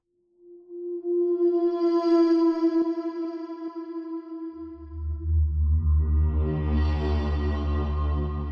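A Pigments 4 synth preset through a shimmer reverb sounds a sustained, pure tone that rings and decays in a long wash. A deeper, richer chord then swells in beneath it and fills out the sound, with no talking.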